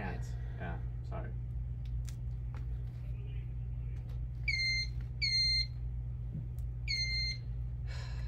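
A handheld security scanner sweeping over a shopper gives three short, sharp electronic beeps in the second half, over a steady low hum of the room.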